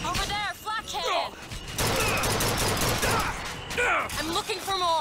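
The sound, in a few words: flak cannon firing in video game BioShock Infinite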